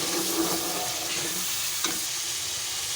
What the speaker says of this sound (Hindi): अब इसकी भी हम भुनाई करेंगे आलूओं के साथ।